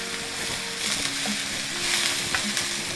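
Turkey shepherd pie filling sautéing and being stirred in a pan, a dense close sizzle with soft scraping stirs over about three seconds, no voices.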